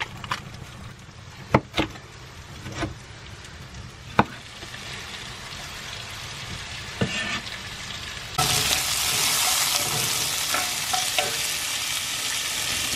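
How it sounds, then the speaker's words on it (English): Onions and a bell pepper sauté in avocado oil in a cast iron pan at an RV campsite, a steady close sizzle with sharp clicks of a utensil against the pan, the frying swelling louder and brighter partway through. "I'm gonna saute up some onions and a pepper."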